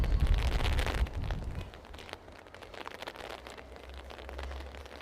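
Steady rain falls around a walker outdoors in Northchurch, Hertfordshire, a continuous close hiss with a heavier rumbling burst in the first second or two before settling into an even patter.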